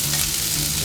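Onions go into a hot pan for a South African braai pie, giving a loud, steady, close sizzle of frying that fills the whole moment without any speech over it.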